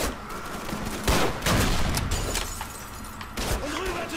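Mounted machine gun firing in the Call of Duty 3 night drop level, with dense, loud bursts of gunfire and crackling battle noise that continue throughout with brief swells.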